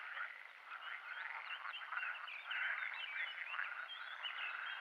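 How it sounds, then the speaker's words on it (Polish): A dense chorus of many frogs croaks steadily in the distance in a Polish forest, a continuous trilling chatter with no voices. "Nie wiem czy słychać na filmiku, ale bardzo ładnie żaby kąkają."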